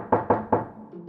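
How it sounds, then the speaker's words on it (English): Three evenly spaced, firm knocks land on a door, close and distinct, each fading quickly, followed by a brief quiet murmur of room sound. "Bartholomew knocks on the door very politely"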